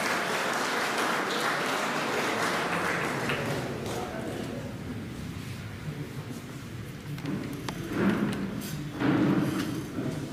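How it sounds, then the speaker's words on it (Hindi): An audience at a BJP office event in Mandla marking Atal Bihari Vajpayee's 100th birth anniversary applauds to welcome a speaker, a dense roar of clapping that gradually thins and fades while voices rise near the end. "तालियों की अनमोल से स्वागत है।"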